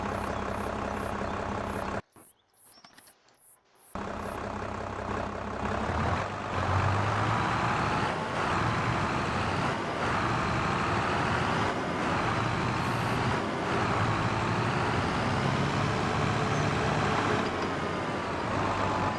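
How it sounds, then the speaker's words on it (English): A tractor in Farming Simulator 25 drives along with a steady diesel engine rumble and hum. The engine cuts out briefly near the start, then returns and runs continuously at moderate loudness. "take the tractor up to the goats"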